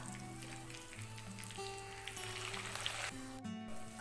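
Chicken pieces deep-fry in hot oil in a home kitchen, a faint, steady crackling sizzle with a low background hum, no one speaking.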